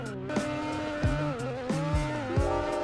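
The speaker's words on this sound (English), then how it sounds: "I think that the RX-7 stock engine is best on maps like Lanka because it just has such instant throttle" A stock Mazda RX-7 engine revs hard while drifting in a racing video game, with repeated sharp throttle blips and pitch drops every half second or so over steady engine drone, with no talk.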